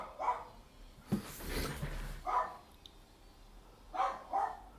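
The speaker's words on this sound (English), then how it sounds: "God, my dog's really barking today." A dog barks in repeated loud, close bursts, roughly four or five barks spaced about a second apart, with a sharp knock or thud between the first barks.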